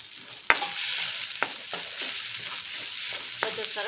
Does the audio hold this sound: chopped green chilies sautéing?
yes